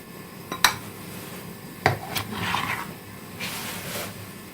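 A spoon scrapes green chutney from a container into a bowl, with a couple of sharp metallic clinks against the dish followed by softer scraping and dabbing sounds.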